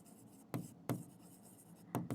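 A pen scratching across paper as a yellow pen writes, three or four short distinct strokes spaced apart, close and fairly quiet with no talking.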